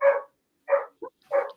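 A pet dog at home barks three times in short, evenly spaced bursts, with a small yip between the second and third, fairly close and loud, with no talking.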